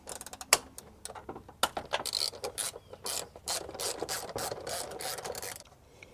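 Ratchet socket wrench fitted with extensions working a Honda Odyssey alternator bolt, giving close, rapid bursts of clicking pawl ratcheting with brief pauses between strokes, alone with no talk.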